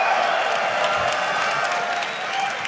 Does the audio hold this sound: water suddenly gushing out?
no